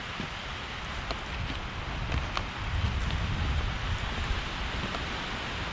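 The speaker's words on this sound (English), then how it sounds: "The wind's pretty loud." Steady broadband wind roars and buffets the microphone in a dark forest, with faint rustling and a few soft ticks scattered through it.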